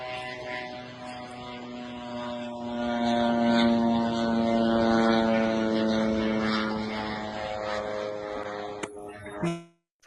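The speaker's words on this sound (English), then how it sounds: "A Russian drone is flying right over it." A Russian decoy drone flies over Vilnius, Lithuania, its engine a steady, droning propeller hum with a buzzing harmonic whine that swells and holds for several seconds before cutting off abruptly near the end.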